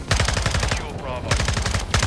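Rapid automatic gunfire in third-person Modern Warfare 2, a loud, steady stream of close shots in quick rhythmic bursts with a brief pause midway, faint voices underneath.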